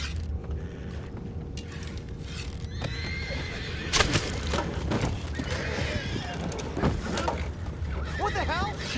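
Horses in the Red Dead Redemption 2 video game whinnying and neighing with clip-clopping hooves nearby, over a steady outdoor ambience with voices talking in the background.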